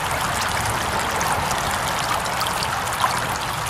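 Steady rushing and trickling of water in a stream in Lancaster County, Pennsylvania, where native brook trout are fished; the flow is continuous and fairly close, with no talking over it.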